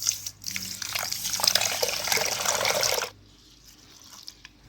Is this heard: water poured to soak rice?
yes